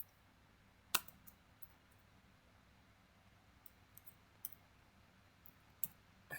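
A few scattered keystrokes on a computer keyboard type a line of Python code. The clicks are faint, sharp and isolated, separated by quiet pauses over a low background hum, with no voices.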